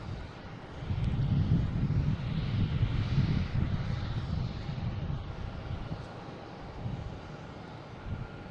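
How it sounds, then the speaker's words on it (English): A JetBlue airliner arriving from Santiago de los Caballeros into Boston Logan sends a steady low engine rumble across the airfield, swelling after the first second and easing slightly toward the end, with some wind noise and no talking. "we have a JetBlue coming in from Santiago de los Caballeros"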